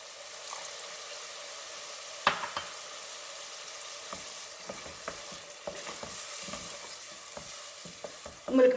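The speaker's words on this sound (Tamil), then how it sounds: "இப்போ இந்த புளி கரைச்சல் ஊற்றிடுறேன்." Tamarind water pours into a pan of fish curry over heat, giving a soft steady sizzle and bubbling with scattered stirring clinks and small knocks, moderately close and fairly quiet, with a sharper clatter near the end.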